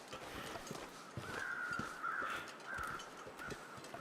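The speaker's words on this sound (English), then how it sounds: "I do like how the birds circle over the dead body, though." Crows cawing as they circle over a dead body in The Long Dark video game, a few harsh, moderately distant caws repeating over a rough wind-like background with irregular soft thuds.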